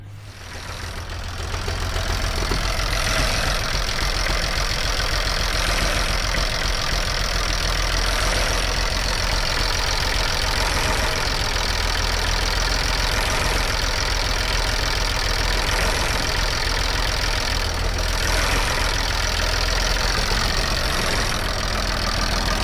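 A car engine idles steadily after an oil leak repair, a loud, continuous low rumble with a faint rhythmic ticking, close by and without talk throughout.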